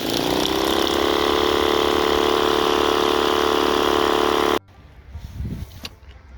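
The motor of a homemade electric weed eater runs with a loud, steady whine rich in humming overtones, then cuts off abruptly, leaving faint handling noise.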